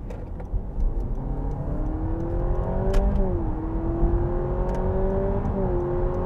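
A Honda Civic XI hybrid pulls away under acceleration, its engine note climbing steadily in pitch and dropping at each of two gear changes, a loud, close cabin drone with no talking.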